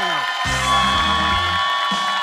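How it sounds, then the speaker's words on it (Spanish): Studio audience on a family game show cheering and whooping with applause, a loud crowd burst that swells and holds under a constant musical tone. "nosotros le damos un fuerte aplauso a la familia retadora"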